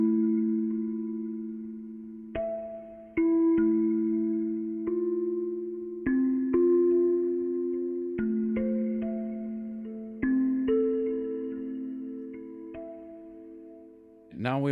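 A tape recording on an OP-1 Field synthesizer plays back pitched down an octave, giving low, sustained ambient tones that shift between held notes with soft swells, steady and fairly quiet with no talking.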